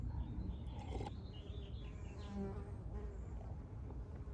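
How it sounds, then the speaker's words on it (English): Faint buzzing of bees drifts around a California flower garden, soft and continuous with small bird chirps now and then. "Hopefully the little bees don't try to get in here while I'm watering."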